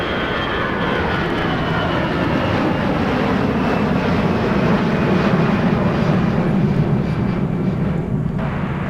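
An airliner taking off from runway 30 left at MSP airport in muggy winter weather, its engines a loud, sustained roar that rises steadily in pitch over several seconds.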